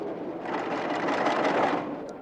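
A sewing machine runs continuously, a dense loud whirring hum stitching boxes, heard close and alone for a couple of seconds in an old 1968 recording.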